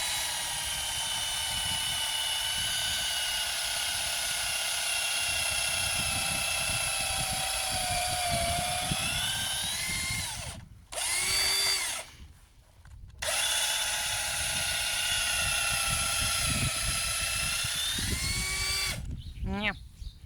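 A power drill bores a hole into wood for a dowel on a farm, a steady high whining motor hum running nearly continuously with two brief pauses before starting again.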